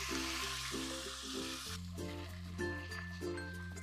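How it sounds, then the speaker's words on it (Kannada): Onions sizzling steadily in hot oil in a pan until golden brown for a mutton head curry, a close, continuous frying hiss with faint stirring. "ಈರುಳ್ಳಿ ಗೋಲ್ಡನ್ ಬ್ರೌನ್ ಬರೋವರೆಗೂ ಕುಕ್ ಮಾಡ್ಕೊಳ್ತೀನಿ."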